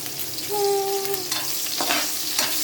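Garlic or onion sautéing in hot oil in a pan for Bicol-style pancit bato, a loud close sizzle with stirring scrapes and a brief tonal squeak, no voices.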